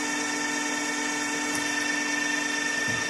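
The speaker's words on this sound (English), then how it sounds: "I'm going to line the drill up with the actual piece, and then I'm simply going to put the coolant onto the surface" A drill bores steadily through a metal chimney flue piece clamped in a vise, with coolant on the surface, giving a constant whining hum throughout.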